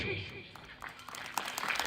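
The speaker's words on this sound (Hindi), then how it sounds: "जो लोग ताली बजा रहे हैं" Scattered clapping from an audience at a sermon, a few uneven claps rising near the end, heard under someone speaking.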